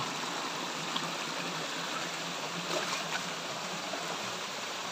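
Constant rushing of water pouring and splashing at Linaw Falls, a dense steady roar close by with no voices.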